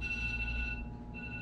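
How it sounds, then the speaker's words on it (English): A phone alarm chimes as a faint, steady electronic tone that holds, drops out briefly and resumes, heard alone in a quiet room. "that's my alarm to get to the gym."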